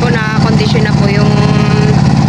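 Small wooden fishing outrigger boat engine test-running at a seaside in Subic, a steady low rumble with a constant droning tone, close and loud, with people talking over it.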